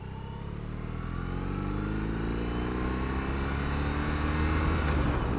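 A BMW R18 motorcycle with its 1800 cc boxer engine runs while being ridden, a loud, close, steady low rumble that climbs gradually in pitch as it accelerates, with no talking.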